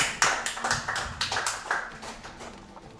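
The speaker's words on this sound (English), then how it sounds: "Thanks for pity applause" Brief, sparse pity applause from a small audience at a Prince of Persia: The Two Thrones speedrun event, a handful of scattered claps that thin out and fade within a few seconds.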